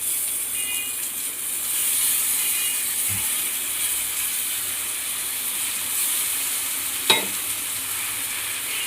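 A paste of green chili, ginger and garlic fries in oil with a continuous loud sizzle and hiss, and a single sharp utensil scrape cuts through near the end.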